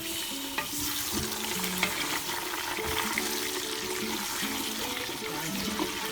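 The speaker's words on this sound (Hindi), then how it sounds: "अब मैं इसके अंदर डाल दूंगी गोश्त, डाल दूंगी" Mutton pieces dropped into dark-golden fried onions for a Pakistani mutton stew, setting off a loud, steady sizzle and bubbling hiss with a few stirring knocks throughout.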